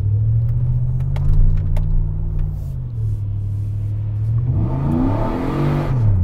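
A tuned car spins its tires hard in a traction control test, its engine roaring steadily at high revs, loud and close, then the pitch sweeps and wavers as it eases off near the end.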